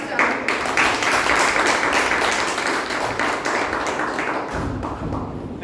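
A small audience at a Toastmasters club meeting applauds with brisk, close handclaps that continue for several seconds and fade near the end, with faint voices mixed in.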